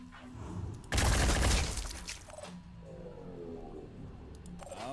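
Squad weapons firing in the Phoenix Point video game: a loud, dense burst of gunfire lasting about a second and a half, followed by quieter game sounds and fading echoes.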